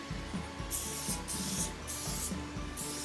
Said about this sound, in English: and then I actually will start to spray stainless steel polish